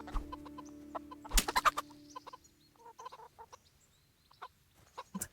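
Chickens clucking in the medieval video game Kingdom Come Deliverance, a scatter of short near clucks and squawks with a louder burst of flapping and squawking early on, then sparse clucks over faint ambient hum.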